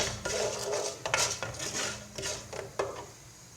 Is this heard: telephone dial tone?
no